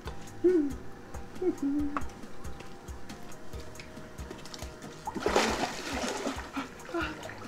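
A person climbs into a backyard pool with a single sharp splash midway, then the water swirls and laps. Before it, quiet with a few faint ticks.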